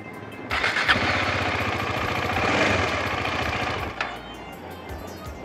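Motorcycle engine running loudly with a rapid chugging rhythm, then cutting out and dropping to a weaker sputter toward the end.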